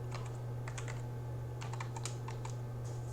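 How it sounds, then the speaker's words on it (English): Rapid, uneven keystrokes on a computer keyboard as a root password is typed, clustered clicks in short bursts over a steady low electrical hum. "We need to enter our root"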